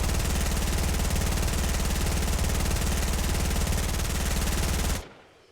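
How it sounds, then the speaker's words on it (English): Sustained P90 automatic fire from the Fortnite video game chewing through a metal wall, a loud, unbroken rapid-fire stream lasting about five seconds before cutting off abruptly into quiet. "That was, what, 58 bullets to break that metal wall?"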